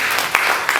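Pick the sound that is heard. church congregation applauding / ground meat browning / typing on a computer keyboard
church congregation applauding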